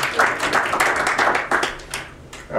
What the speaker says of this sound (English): just give a big round of applause for all of this